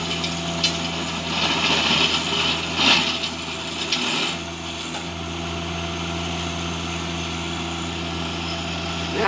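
A tractor engine runs steadily while breaking ground for a greenhouse, a continuous mid-distance diesel drone with some rattling and busier bursts early on before settling into an even hum, with no voices.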